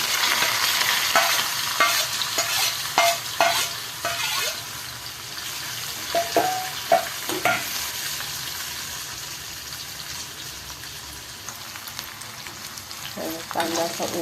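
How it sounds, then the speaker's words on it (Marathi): Sliced onion stir-fries in hot oil with cumin and mustard seeds for a bitter gourd dish, a soft continuous sizzle broken by repeated scraping and knocking of the spatula, louder early on and quieter toward the end. "कांदा चांगला परतून घ्यायचा."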